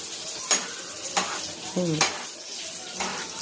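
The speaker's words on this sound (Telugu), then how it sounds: "సరే కలుపు మెల్లిగా" A small child slowly stirs food in a cooking pan, giving a few scraping, sizzling strokes spaced about a second apart, near and fairly quiet, with no talk.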